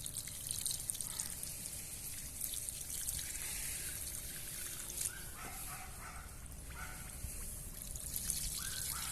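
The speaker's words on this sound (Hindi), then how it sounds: "तो उसके ऊपर आपने पानी डालना है" Water poured from a lota onto potting soil for winter seeds, a soft steady trickle with small dribbling splashes, close and quiet, with no talk.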